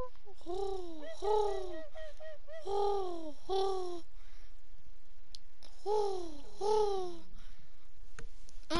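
A person imitates a bird with their voice during a Fall Guys gaming session, giving repeated rising-falling cooing calls in several bursts with short pauses, close and clear.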